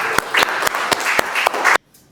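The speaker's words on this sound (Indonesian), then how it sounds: "Tepuk tangan untuk kita semuanya." Students in a university lecture clap together in a steady rhythm of sharp, evenly spaced claps over a noisy room, and the sound stops abruptly.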